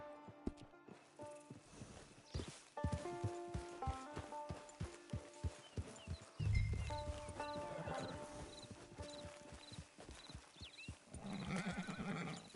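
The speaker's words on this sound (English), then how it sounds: "It's your horse." In the video game Red Dead Redemption Online, a horse's hooves clip-clop steadily at a walk near a camp, then the horse whinnies loudly partway through, with game music playing underneath.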